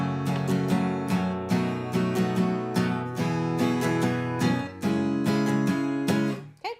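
An acoustic guitar plays the first four chords of a song in a down-down-up-down strumming pattern, giving steady rhythmic chord strums close up until a final ringing chord dies away.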